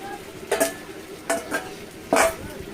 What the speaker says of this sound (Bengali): মাংসটাকে আমি ভালো করে কষিয়ে নেবো